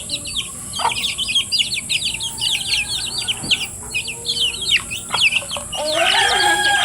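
Native chickens clucking and chirping at feeding time, a dense flock of overlapping clucks and calls close by, with a few louder squawks and steady rustling underneath.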